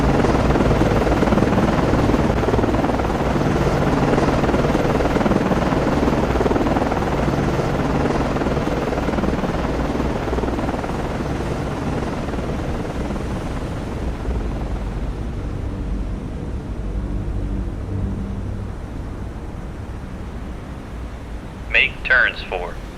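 Helicopter flying in the naval combat game Cold Waters, a continuous rotor and engine drone that slowly fades and thins after the midpoint, with a few short sharp sounds near the end.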